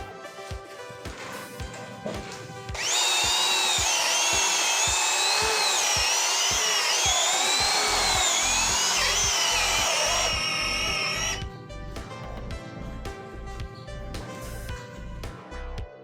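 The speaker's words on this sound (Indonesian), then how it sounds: "Dan di sini saya akan mengebor menggunakan percepatan nomor 2, modenya adalah mode drilling." A cordless drill boring into 15 cm thick mahogany wood in drilling mode at speed setting 2 whines loudly and steadily for several seconds, bracketed by rhythmic knocking before and after, then winds down.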